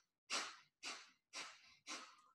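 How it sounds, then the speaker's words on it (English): Kapalabhati yoga breathing, four sharp forced exhales through the nose spaced about half a second apart, each a short breathy burst followed by a quiet passive inhale, close and fairly soft. "So forced exhale, passive inhale, and it sounds like this."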